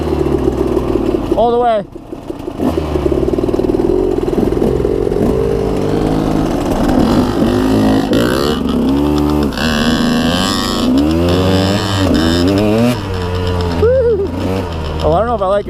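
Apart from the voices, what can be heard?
trail motorcycle engine revving under throttle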